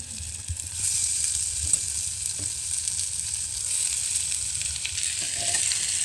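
Prawns fry in a clay pot with turmeric and ginger, giving a steady hiss and sizzle close at hand, with a few faint scrapes and clicks from stirring and no voices.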